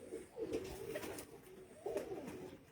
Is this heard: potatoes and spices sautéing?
no